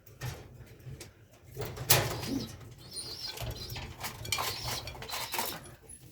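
Racing pigeons coo softly inside a loft at night, their low throaty calls repeating in a loose rhythm close by, with occasional clatter and light rustling among the birds.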